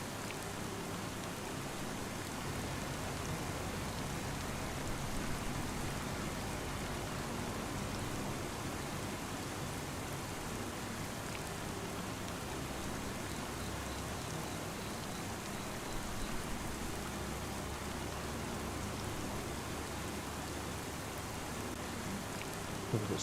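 Rain in the Farming Simulator 25 video game falls as an even, moderate hiss of drops, a steady unbroken wash with no voices.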